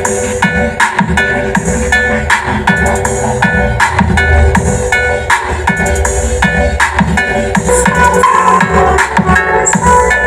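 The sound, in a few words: music from miniature sound system speaker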